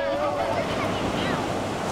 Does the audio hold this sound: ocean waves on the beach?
yes